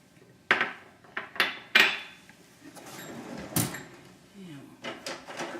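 Green onion and green garlic being stirred into a venison base, with several sharp utensil clanks against the pot among softer scraping and stirring noises, close and fairly loud.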